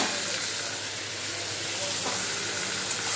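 Elephant foot yam stems drop into onion and garlic frying in hot oil, giving a steady close hiss and sizzle.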